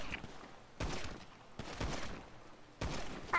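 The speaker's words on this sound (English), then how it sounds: "Their shots are being fired." Several sharp gunshots crack out at roughly even intervals during a GTA V roleplay shootout, fairly close and clear, each with a short echoing tail, with no voices between them.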